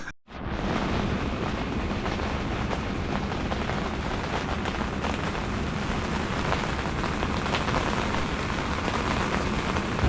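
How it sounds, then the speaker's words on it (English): Steady, dense rain pouring down on a campsite by the Tug Fork River after a brief start, a loud continuous hiss with no talk. "It's raining now."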